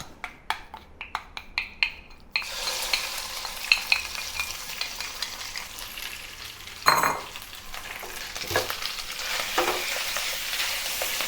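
Beef hits a hot non-stick pan: a few sharp clicks and taps, then a sudden loud, steady sizzle that carries on with occasional scraping and utensil knocks.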